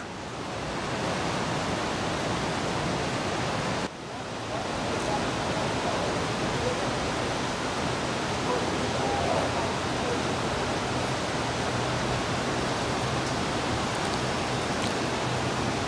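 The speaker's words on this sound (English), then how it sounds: "Look at the size of those waves coming in" Large ocean surf pours in as a continuous heavy roar, close and loud, with a brief dip near the start before the wash of breaking water resumes unbroken.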